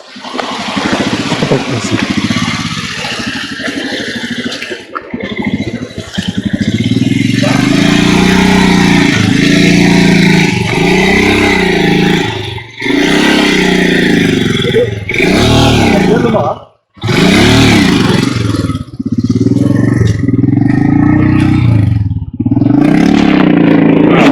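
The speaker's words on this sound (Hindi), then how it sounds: "आई थिंक जो बाइक है वो फंस गया पानी में" Royal Enfield motorcycle stuck in a water stream crossing on a mountain road in Zanskar, with loud continuous engine rumble, splashing and scraping, briefly cut by a couple of drops, while people talk over it.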